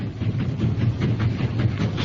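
Rumbling train sound effect in a radio reading of a Christmas homecoming story: a steady low clatter of rail cars with rhythmic clickety-clack pulses and a faint hiss, continuous and fairly close, with no voices.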